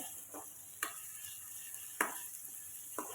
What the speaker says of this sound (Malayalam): ഇനി നമുക്ക് ഇതെല്ലാം കൂടി ഒന്ന് നന്നായിട്ടൊന്ന് ഇളക്കി കൊടുക്കാം